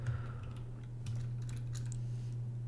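Quiet, steady typing on a computer keyboard, rapid soft key clicks running continuously under a low electrical hum, close to the microphone.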